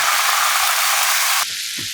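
Soy sauce hits a hot frying pan with a loud, even hissing sizzle that drops abruptly to a quieter hiss near the end.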